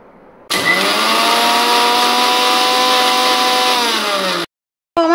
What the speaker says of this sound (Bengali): দিয়ে ভালো করে এটাকে ব্লেন্ড করে নেব।